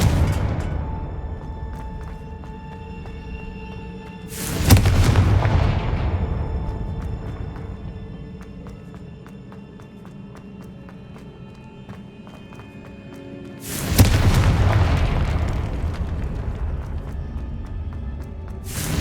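Two booming Confringo fire-spell explosions go off in the Hogwarts Legacy video game, about nine seconds apart. Each loud blast fades away slowly, with a quieter rumble in between.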